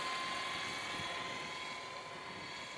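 A radio-controlled model helicopter at a model aircraft meeting in St Macaire makes a banking pass, its steady rotor and engine whine holding loud and constant throughout with no talk.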